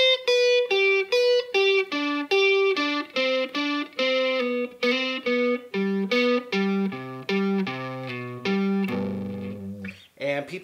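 Electric guitar playing blues licks through a distortion effect, a run of clear, sustained picked notes in a steady phrase, loud and close, ending in a brief scrape.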